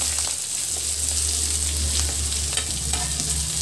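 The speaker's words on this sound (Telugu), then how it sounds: "మునగాకు బాగా ఫ్రై అయ్యింది" Boiled moringa leaves fry with onion in a pan, a steady, close sizzle with soft stirring scrapes throughout and no talking.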